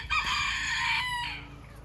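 A rooster crows once in a loud, close call lasting over a second, with a rising start, a sustained middle and a falling tail, amid quiet farmyard background.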